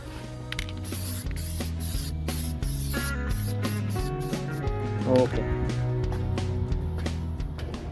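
Rust converter sprayed onto a 2001 Chevrolet Silverado 2500 HD: a steady hiss of short spray bursts close up, running throughout beneath music.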